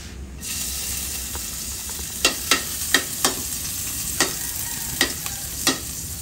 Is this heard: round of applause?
no